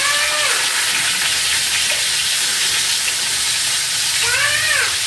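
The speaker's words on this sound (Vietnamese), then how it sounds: "Mỡ cũng nóng rồi em để cá vào chiên." Snakehead fish frying in hot oil in a pan, a loud, steady crackling sizzle close by, with a few high squeaky chirps near the start and end.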